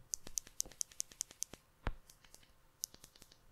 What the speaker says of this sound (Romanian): ce nu-mi place mie e că butoanele astea sunt foarte clicky